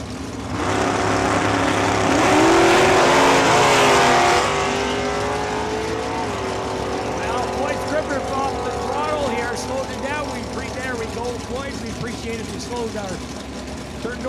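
Race cars roar past at Saskatchewan International Raceway, including a Mustang, one loud engine surging near then fading into a background drone of other cars, under a track announcer's commentary.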